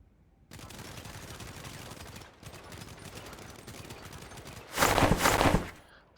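Sustained automatic gunfire rattles in rapid bursts after a short silence, pauses briefly, then resumes with a louder, closer volley before cutting off.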